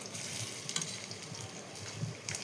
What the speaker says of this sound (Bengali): গরম তেলের ভিতর দিয়ে হালকা এপিট ওপিট করে ভেজে